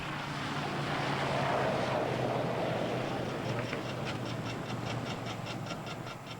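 A small propeller airplane flies over the Chocó region of Colombia, its steady engine drone filling the whole stretch, with a fluttering pulse emerging toward the end.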